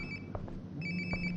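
A phone rings in the video game Life Is Strange: Before The Storm, with two short electronic ring bursts separated by a brief pause over a low background hum.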